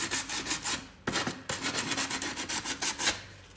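Hand sanding a wooden furniture piece, a rhythmic back-and-forth rasping in quick even strokes, close and alone, with two brief pauses.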